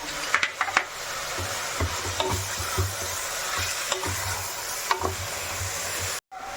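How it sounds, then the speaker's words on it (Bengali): A spoon stirs frying vegetables with crushed garlic and ginger paste in a pan for a Bengali veg rice, making a soft steady sizzle under rhythmic scrapes and occasional clinks, with a brief dropout near the end. "এবার এর মধ্যে দিয়ে দেব রসুন আর আদা বাটা, একসাথেই দিয়ে দেব। তারপর একটু নাড়াবো।"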